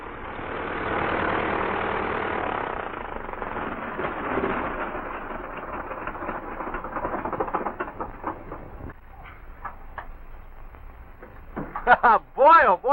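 A rough, rumbling, troubled aircraft motor drones at moderate volume and gradually fades, followed by scattered knocks and voices.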